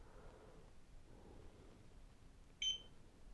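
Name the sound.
beep from camera sync button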